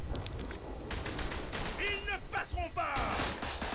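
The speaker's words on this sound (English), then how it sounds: "where did I just get shot at from?" Gunfire in the World War I shooter Verdun: scattered shots and bursts crackle across a dense battle din, with a few sharp nearby reports standing out against distant firing.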